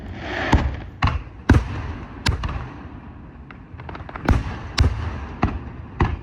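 Distant fireworks over Prospect Hill pop and bang in an irregular series of sharp, booming bursts, some echoing, with a low crowd murmur underneath.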